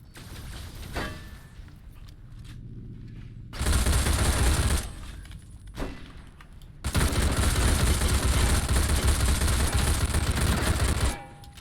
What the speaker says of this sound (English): I can shoot my gun now